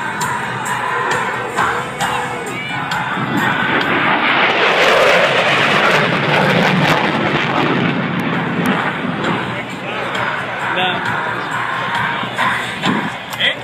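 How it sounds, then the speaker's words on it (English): An F-15E jet makes a fast pass at an air show at MacDill AFB, a loud broadband roar that swells to a peak and then slowly fades, with crowd noise and voices underneath. "to demonstrate the F-15E's exceptional turn capability"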